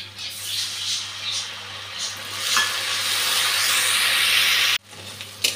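Chili powder and turmeric spice paste hits a pan of fried onions and sizzles loudly and steadily at close range, with the frying hiss swelling and then cutting off briefly near the end.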